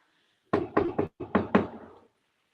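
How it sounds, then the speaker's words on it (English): Knocking on a surface during a ghost hunt at Malvern Manor: two quick clusters of sharp raps, three knocks then three more with a short gap, close and fairly loud in a quiet room. "I'm going to knock. I want you to knock back"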